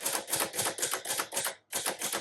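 Brisk keystrokes on a 1955 Royal Quiet Deluxe typewriter with flat tombstone keys, a rapid, close series of crisp clacks in an even rhythm, broken by one brief pause before the typing resumes.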